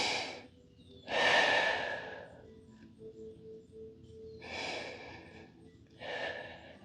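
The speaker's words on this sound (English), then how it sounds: "3 breaths." Slow, deep breaths drawn in and let out during a yoga session, four long airy inhales and exhales separated by quiet pauses, close and clear with no talking.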